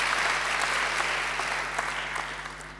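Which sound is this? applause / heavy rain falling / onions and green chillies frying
applause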